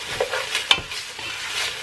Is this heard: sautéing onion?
yes